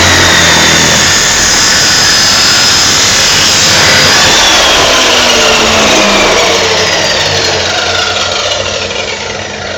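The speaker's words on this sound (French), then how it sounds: "Et hop, je coupe." An abrasive cutting disc grinds through a small metal piece clamped in a vise, a loud, continuous harsh roar with a steady high whine that holds for the whole stretch and eases slightly at the end.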